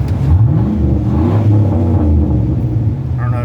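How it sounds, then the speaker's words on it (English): A Chevrolet Silverado's exhaust revs freely at idle, a loud, steady low rumble rising and falling with the throttle for a few seconds; distinct pops are not clearly separable. "sometimes, like when I free rev it, I get excessive pops and stuff"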